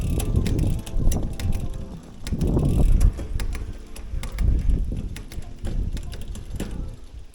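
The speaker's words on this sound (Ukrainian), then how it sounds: "І навіть на велику зірочку закиде взагалі без проблем" A touring bicycle's chain shifts onto the large rear sprocket with a series of light mechanical clicks and ticks. Outdoor wind and low rumble sit underneath.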